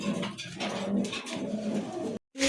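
Red Rasgolla pigeons with pitcher-neck markings coo close by in a pet-seller's loft, a fairly loud, rolling low murmur from a few birds that cuts off abruptly near the end before resuming.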